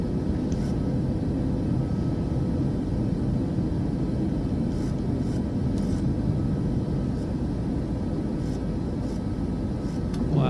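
A Boeing 737 climbs after takeoff in Microsoft Flight Simulator 2024, a steady, loud low engine roar and rumble that holds constant throughout without any talk.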